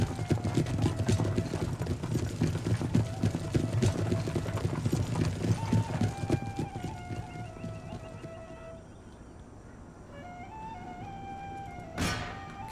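Cavalry horses of Cherokee Lancers in Empire Total War: Warpath, a dense rhythmic clatter of many hooves galloping that thins out midway, leaving faint tones and a brief whoosh near the end.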